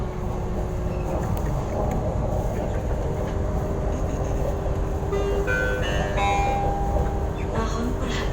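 The KA Jenggala commuter train rolls into Surabaya Pasar Turi station with a steady low rumble, joined partway through by bright tonal chimes or horn-like notes. It sounds close and loud throughout.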